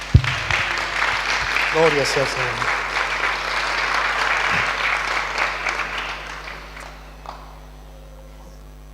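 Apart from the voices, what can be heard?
church congregation applause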